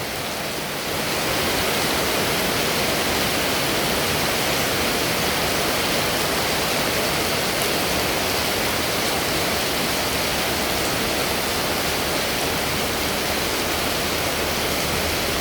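Heavy rain pours down in a continuous loud wash, starting abruptly and holding steady throughout with no voices.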